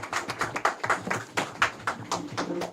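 Scattered hand claps from a small audience at a political leadership gathering during a budget review debate, a handful of distinct claps in uneven rhythm, fairly close and moderate in volume.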